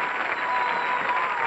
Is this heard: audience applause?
yes